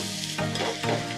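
Grated raw mango drops into a hot frying pan and sets off a loud sizzle with stirring scrapes, all within a brief moment and with no talking.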